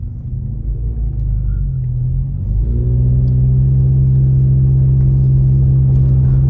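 A car drives along Moonridge Road by Snow Summit on a mountain road before a storm, its engine a steady low rumble that swells slightly and then holds loud and constant throughout, with no talk.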